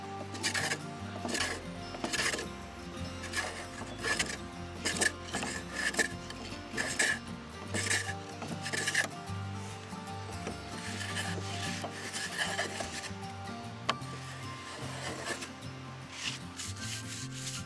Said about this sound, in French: Puis un petit coup de rabot pour que le chanfrein soit bien plat.